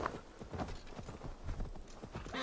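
Horse hooves clip-clopping at a quick, steady rhythm in the video game Assassin's Creed Valhalla, fairly faint and close, with hoof strikes repeating evenly for the short span.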